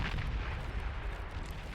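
Wide bomber explosions in the strategy game Beyond All Reason make a continuous dense rumbling roar, loud and unbroken, with no voices over it.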